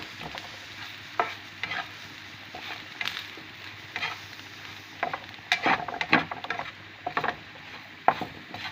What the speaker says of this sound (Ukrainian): Все перемішую